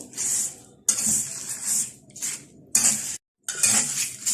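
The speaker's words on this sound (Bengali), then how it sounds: "এখন আমি এটা আস্তে চালে অনবর্ত নেড়ে চেড়ে এটা ভেজে নেব" Dry spices for chaat masala are stirred and roasted in a pan, a spoon scraping and clinking against metal in repeated bursts with brief pauses, close and clear, no voices.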